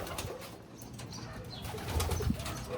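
Pigeons coo softly in low, rounded calls near the end, over faint background noise, with no talking.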